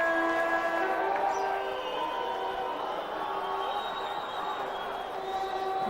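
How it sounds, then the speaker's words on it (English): A packed cricket stadium crowd during an India versus Pakistan Test match at Mohali, a sustained loud roar that swells and holds steady throughout, with faint tonal whistles riding on top. "There's a huge roar from the crowd because Balaji has got the ball"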